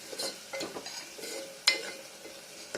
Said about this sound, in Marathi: हे सुद्धा छान तेलामध्ये फ्राय करून घेऊया